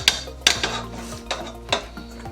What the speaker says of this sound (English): I'm going to take my spatula out